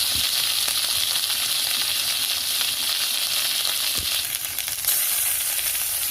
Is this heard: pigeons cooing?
no